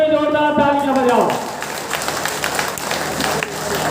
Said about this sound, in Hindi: यहाँ पर प्रशासन के लोग बैठे हैं उनके लिए भी जोरदार तालियां बजाओ